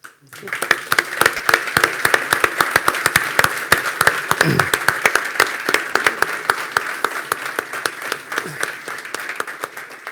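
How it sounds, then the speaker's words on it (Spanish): Audience applause at the Universo MLS 2022 international congress, a dense, steady burst of many hands clapping with sharp individual claps standing out, loud and sustained throughout, with a brief voice in the middle. "creo que os debéis entre todos un gran aplauso"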